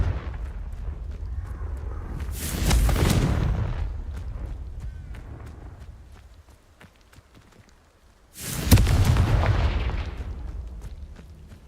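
Two booming blasts from the Confringo fire spell in Hogwarts Legacy, each a loud burst that fades into a rumbling tail, spaced several seconds apart over a low background.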